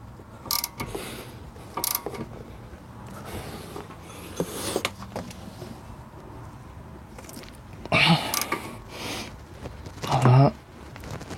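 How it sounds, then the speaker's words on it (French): A KS Tool 8 mm socket tightens a lower brake caliper screw on a Seat Leon 1L TDI during rear disc and pad replacement, giving scattered ratcheting clicks and metallic knocks at close range. "Donc que je viens serrer avec ma douille KS Tool de 8."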